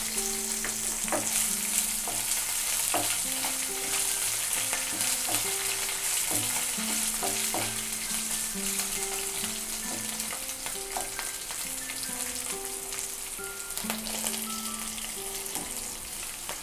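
Chopped ginger added to sizzling tempering oil, steady crackling and spitting from the pan with intermittent stirring clinks and scrapes, close and even, with no voices.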